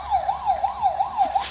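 An ambulance siren wails loud and near, its tone sweeping up and down in a rapid repeating cycle, with no voices over it.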